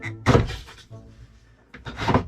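A motorhome toilet's water-release lever gives two dull thunks a couple of seconds apart, close by, with a faint rush between them.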